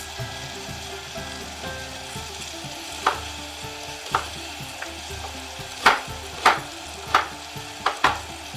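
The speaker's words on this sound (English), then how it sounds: "So we're just cooking that lamb right into that bacon grease." Chunks of lamb frying in bacon grease in a stew pot, a steady low sizzle with several sharp crackles and pops spitting out toward the end, no voices.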